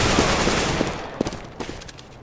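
Gunfire in a Counter-Strike match, with several sharp shots popping out over a dense, noisy game mix during a tournament final.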